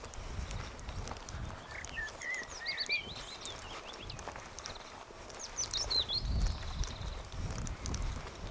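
Several birds sing on open moorland on Dartmoor, with clear high chirps and trills scattered through the whole stretch over a soft, constant outdoor wind rumble, plus a few footsteps.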